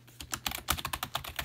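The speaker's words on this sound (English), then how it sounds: "it's more like a laptop keyboard than anything else" Rapid, close-up keystrokes on a cheap, laptop-style Empyrex keyboard connected through a USB hub, a quick irregular run of light clicks and taps with nothing else heard.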